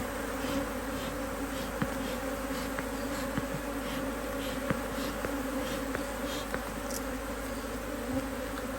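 Agitated honeybees drone around an opened hive during a frame inspection, a dense, steady buzz with no pauses, close and fairly loud, with faint individual passes standing out.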